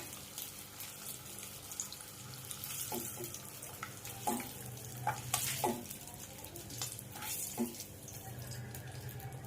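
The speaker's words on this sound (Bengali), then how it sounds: "এবার ডিমগুলো আমি লাল লাল করে ভেজে নেব" Eggs frying in a pan for Afghani egg curry, a steady close hiss and sizzle with scattered sharp pops and clinks, no voices.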